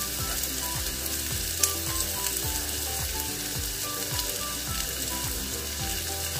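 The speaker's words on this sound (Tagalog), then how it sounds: "Saute it" Onion sautés in a hot pan for ginisang monggo, giving a constant close sizzle broken by regular scraping strokes of stirring, with no talk.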